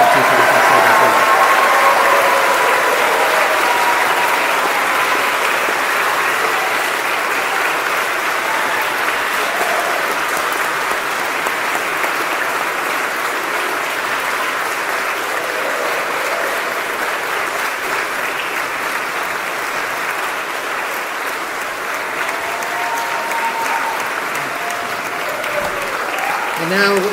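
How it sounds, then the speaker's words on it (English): Sustained applause from a large crowd at a Class of 2017 graduation ceremony for an operations research department, with steady dense clapping throughout that tapers only slightly, mixed with faint crowd murmur. "if we could have a big round of applause for all of the graduates of class of 2017"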